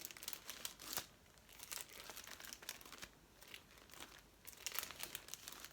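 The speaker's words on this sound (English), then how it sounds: "Sorry for any rustling that comes on." Sheets of wrapping paper rustle and crinkle as they are flicked through, in short, quiet bursts with brief pauses between them. Each sound is close but faint, and no one speaks.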